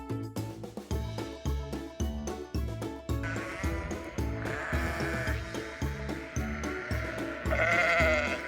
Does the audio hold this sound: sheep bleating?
yes